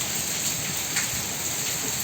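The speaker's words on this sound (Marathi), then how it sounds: "अवकाळी पावसाचं आगमन मनाला थोडीशी शांतता करून जात आहे" Steady unseasonal rain falling, a dense even hiss of drops with no break, moderately loud and close.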